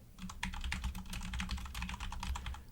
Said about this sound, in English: The sound of Guthrie typing.